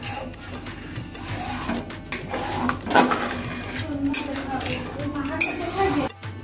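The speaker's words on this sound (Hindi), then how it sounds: "अभी इसमें थोड़ा थोड़ा कॉर्नफ्लोर दे के हम इसको चलाते रहेंगे, इसे ऐसे चलाते रहेंगे।" Spoon scraping and clinking around a cooking pot as milk is stirred with cornflour for kulfi, steady close clatter with a voice talking over it throughout.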